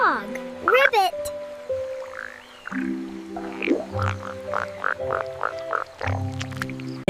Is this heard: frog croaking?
yes